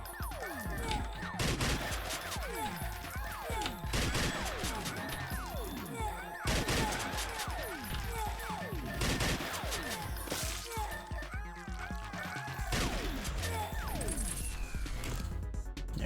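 Dense, continuous video game gunfire in Slime 3K, with rapid overlapping shots, blasts and crashing impacts sustained at high loudness throughout.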